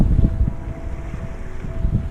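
A sailboat running on a broad reach off the Corsican coast between Ajaccio and Girolata, with steady wind rush and low water wash against the hull, continuous and close, without talk.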